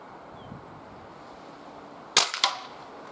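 A Mauser K98 rifle fires one sharp, loud shot after a quiet outdoor lull, followed almost at once by a second crack or echo, both close and short.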